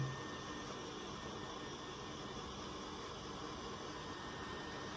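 A hot air gun heats an iPhone 7 to soften the glue, giving a constant hissing whoosh of blown air at moderate level that holds steady throughout.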